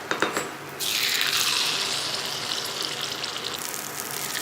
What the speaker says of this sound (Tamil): இப்போ இதுலேயும் நம்ம டக்குன்னு மாவு ஊற்றிடலாம்